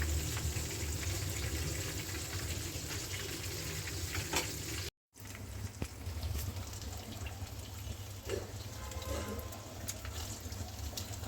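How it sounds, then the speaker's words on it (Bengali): Chicken fries in hot oil, a soft continuous bubbling sizzle with a brief cut near the middle and scattered small clicks, fairly quiet and close, no speech. "আমার চিকেন ভাজা হয়ে গিয়েছে"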